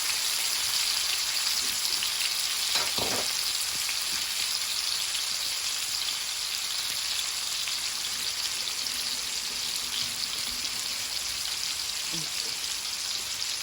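Steady crackling sizzle of food frying in hot oil, continuous and moderately quiet, with a few soft knocks in between.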